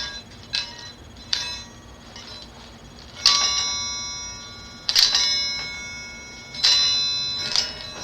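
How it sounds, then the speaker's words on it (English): Ritual bells ringing in a series of bright metallic strikes, each chime ringing out and fading, spaced irregularly over a quiet background hum. "I don't know if you can hear the bells."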